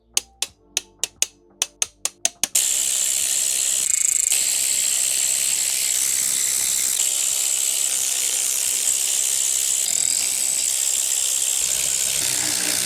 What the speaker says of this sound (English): Let me go grab my torque wrench.